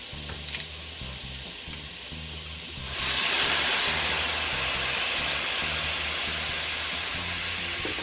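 Quiet sizzle of garlic frying suddenly erupts into a loud, bright hiss as wine hits the hot pan, then keeps sizzling steadily and slowly eases off.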